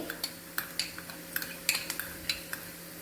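A metal spoon stirs ginger and garlic in a pan for cauliflower roast, giving a run of light, irregular clinks and scrapes against the vessel, close and fairly quiet, with no voices.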